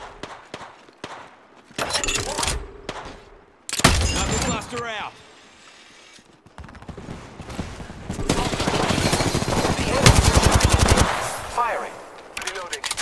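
Automatic weapon fire in the Apex Legends video game, rapid bursts of shots in several loud stretches with glassy breaking sounds and brief quiet gaps, a voice talking in between.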